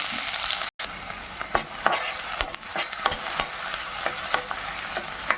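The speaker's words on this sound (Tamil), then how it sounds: "நல்லா வதக்கி கொடுங்க" Finely chopped onion and green chilies sauté in hot oil in a pan, giving a continuous close sizzle with repeated scraping stirs of a spoon against the pan.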